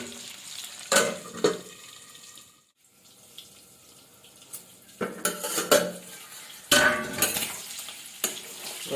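Pork pieces fry in a pan, a close sizzle broken by several loud clatters of a utensil stirring and scraping the pan, with quieter stretches between bursts.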